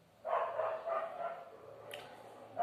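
A dog barks and yips in a short cluster, fairly faint and somewhat distant, followed by quiet.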